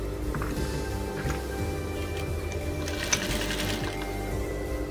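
A sewing machine runs steadily at close range, stitching a seam on a dashiki with a continuous, even mechanical whir and fine rapid ticking, one faint click partway through, and no talk.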